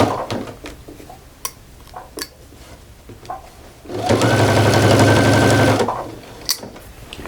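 A sewing machine stitching binding down onto a quilt: a loud, steady mechanical whir for about two seconds, close by, preceded by soft clicks and handling of fabric and pins, with a brief word spoken.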